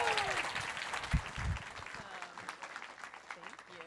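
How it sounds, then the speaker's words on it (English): Applause from an audience at lightning talks, moderate clapping that peaks early and fades toward the end, with a voice speaking over it. "A round of applause for you."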